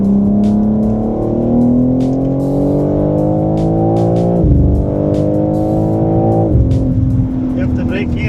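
Fast track car with about 500 brake horsepower accelerating hard on the Zandvoort circuit, engine note rising steadily, dropping abruptly twice at shifts, then climbing again, loud and close with brief voices in the cabin.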